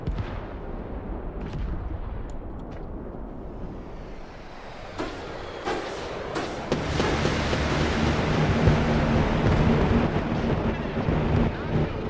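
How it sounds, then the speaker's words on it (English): An airstrike bombing run lands in Broken Arrow: after quiet, scattered cracks, a heavy roaring wash of blasts builds into a loud, rumbling, continuous barrage that swells toward the end. "Airstrike complete."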